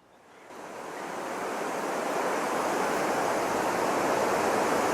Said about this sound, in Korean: 나야가라 폭포를 보십시오.